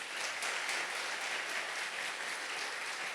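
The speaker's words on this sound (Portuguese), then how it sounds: "Que aplaudir a Jesus, aplauda." Church congregation applauding after the pastor's call during a Portuguese-language sermon, a steady, fairly soft wash of many hands clapping together, continuous throughout without talk.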